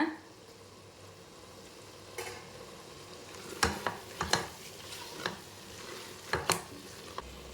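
Tomatoes and a handful of mint sautéing in a pan for tomato rice, a steady close sizzle under repeated scraping stirs and clinks of a spoon against the pan, with no talk.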